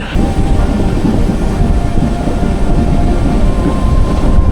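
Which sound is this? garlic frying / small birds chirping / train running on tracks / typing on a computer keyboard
train running on tracks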